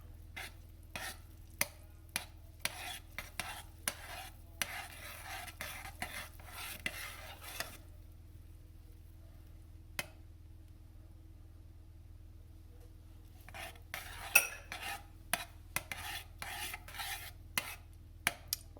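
A spoon stirs a thick fudge mixture in a pot, a rapid series of soft scraping knocks that pause for a few seconds mid-clip and then resume, close and quiet.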